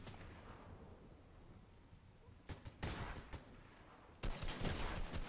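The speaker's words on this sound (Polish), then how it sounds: "ale ktoś tu jeszcze strzela" Gunfire from another player in the Fortnite video game, several sharp bursts of shots in quick succession over a quiet background, moderately loud and close.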